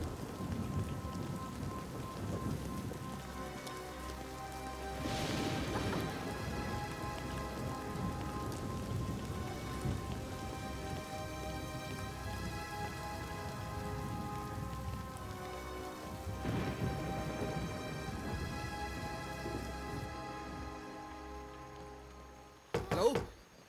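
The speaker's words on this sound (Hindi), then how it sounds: "जल्दी चलो, बारिश बहुत तेज हो रही है।" Heavy rain pours steadily on a surface, dense and loud, with occasional thumps and a low rumble rolling in the distance.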